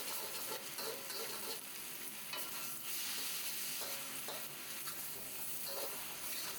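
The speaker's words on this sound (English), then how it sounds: "Add a little bit more oil here so we can fry up our egg or eggs if you want to add more." An egg frying in oil in a wok for a pad thai, giving a steady, loud crackling sizzle with some stirring scrapes and no voices.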